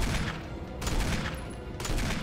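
Gunfire in the video game Resident Evil, quiet bursts of rapid shots heard faintly, rising and falling in short rattling waves with no clear talk over them.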